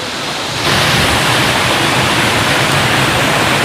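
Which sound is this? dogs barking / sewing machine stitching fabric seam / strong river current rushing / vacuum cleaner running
strong river current rushing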